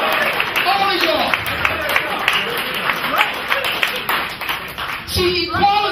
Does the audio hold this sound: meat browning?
no